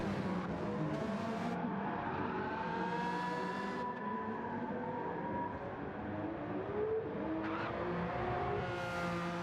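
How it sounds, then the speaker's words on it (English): A race car in a video game power-slides and skids around turns, its engine droning loudly and continuously, with shifting revs and tire squeal as it corners. "Slinky is just power sliding in around the turns"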